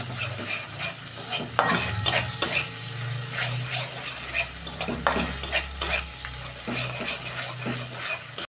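Amudi fish masala with a spoonful of sauce is stirred and sautéed over a low gas flame, a steady soft sizzle broken by repeated scraping strokes of the spoon against the pan, close and moderately loud.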